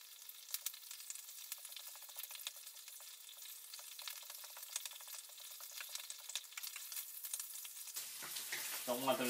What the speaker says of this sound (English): once you've got them fried up a little bit pretty good, you can just push them aside to the top here